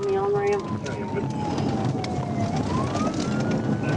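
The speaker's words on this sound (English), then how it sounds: "I turned on my audible siren and the vehicle continued to fail to stop." A police car siren wails during a high-speed pursuit, its pitch sweeping up and down in a loud, continuous cycle over road and engine noise.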